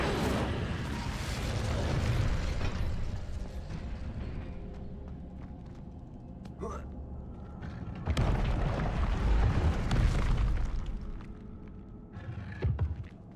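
Incendio fire spells blasting in the video game Hogwarts Legacy, several loud booming fiery bursts with rumbling tails over game ambience, the biggest near the middle, no talking.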